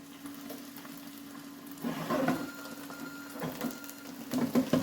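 Beef sears in a Ninja Combi Dutch oven on the sear function, a steady sizzle with a constant appliance hum beneath and a few scraping stirs, no talking.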